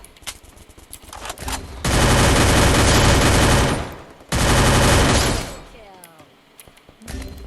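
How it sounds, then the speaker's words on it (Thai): Loud shotgun blasts and heavy gunfire in an online video game, two long roaring bursts with a brief gap between, surrounded by quieter game noise. "ลูกซอง"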